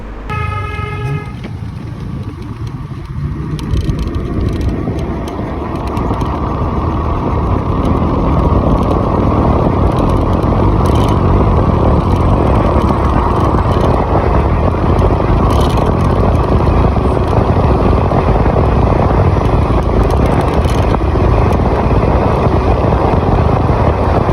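Ampere Magnus EX electric scooter on a ride, with a loud, steady rush of wind and road noise building after a few seconds and staying constant, with faint tones at the start.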